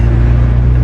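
A modified MK3 Volkswagen Golf GTI making over 200 kW, fitted with a dual blow-off valve, drones steadily on the move, with a loud, even low engine rumble under continuous road noise and no voices.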